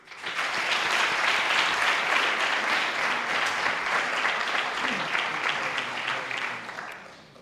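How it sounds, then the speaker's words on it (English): Sustained audience applause at a film festival awards ceremony, a dense wash of many hands clapping at steady strength for about seven seconds before tapering off at the end. "An applause, please."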